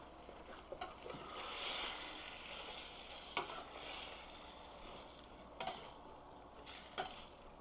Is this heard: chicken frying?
yes